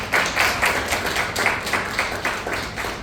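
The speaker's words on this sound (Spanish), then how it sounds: "Les pediría un fuerte aplauso justamente para la doctora que dio una gran exposición del tema" Applause from the audience for a doctor who has just finished a lecture reviewing a pediatric pneumonia case, rather sparse, close clapping with distinct individual claps in an uneven rhythm from a modest group.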